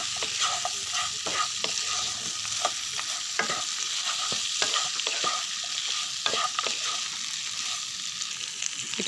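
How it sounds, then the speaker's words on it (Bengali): Katla fish head, fried potato and fried aromatic rice are stirred through sizzling spices in a pan, a constant close hiss broken by frequent scraping stirs. "মশলার সাথে মিশিয়ে একটু কষিয়ে নিব।"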